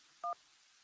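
A single short DTMF keypad tone, close and clear, sounds briefly against a faint hiss as a radio call-in phone line connects.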